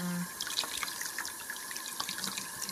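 Lukewarm tap water runs steadily into a sink or tub for a juvenile bearded dragon's bath, a continuous close splashing hiss with small drips, no voices.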